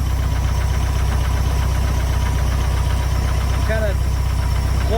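A 1974 VW Beetle engine idles roughly and loud and close during carburetor adjustment, a constant throbbing chug with a brief squeak near the end.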